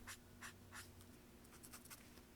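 A marker scratches across sketchbook paper in quick, repeated strokes, a few distinct swipes first and then a faster run of shorter ones, close and quiet over a faint low hum, with no talking.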